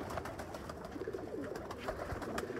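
A crowd of pigeons kept in a loft coos continuously, a dense layered murmur of soft throaty calls close by, with no voices heard.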